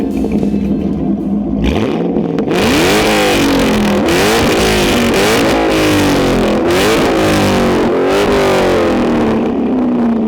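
A Walkinshaw Performance VXR8 with quad exhaust cranks and fires up, then revs hard several times in a row, loud and close, its engine note rising and falling between blips.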